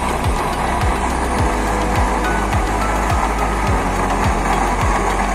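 Used oil stove burner running at high output, a loud steady roar with a regular low pulsing beat throughout, no talk.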